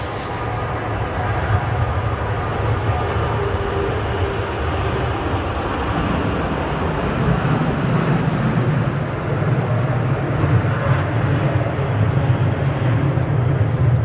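A Jet2 Boeing 737 airliner departing Manchester Airport, heard as a loud, sustained low engine roar that builds slightly and holds steady throughout.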